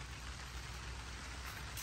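Rain falling outdoors during a rainy spell in a garden of bougainvillea plants, a dense, even hiss of drops that holds steady throughout, faint and constant with no voices.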